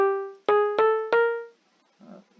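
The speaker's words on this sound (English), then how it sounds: "note block makes a sound like this" Three short plucked, bell-like electronic notes from a Minecraft note block in a quick steady rhythm, then a faint soft rustle.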